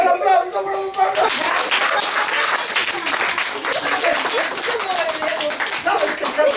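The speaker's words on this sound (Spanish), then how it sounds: "¡Fuerte el aplauso para Papá Noel!" A crowd at a Santa Claus event breaks into loud, dense applause that starts after a brief voice and keeps going steadily, with shouts and cheering mixed in.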